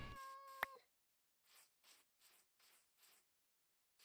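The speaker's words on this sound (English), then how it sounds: "It's a kitty cat." A cat in the video game Minecraft gives a short meow near the start, followed by a string of soft, evenly spaced clicks or taps against otherwise silent background.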